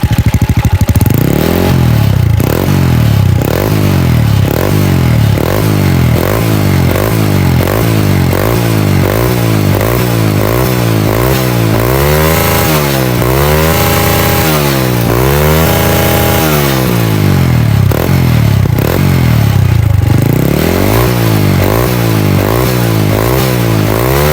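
A Honda Wave 125 motorcycle fitted with a Wave 110 Chan Speed slotted-baffle exhaust revs hard again and again, its loud exhaust rising and falling in repeated throttle blips, close and raspy.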